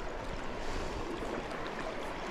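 Strong river current on a trout stream rushes past a wading angler as an even, dense wash of water noise, close and steady without pause.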